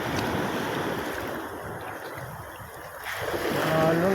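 Beach surf rolls and washes continuously with a wind-buffeted rumble, swelling louder toward the end as a wave builds. No one is talking.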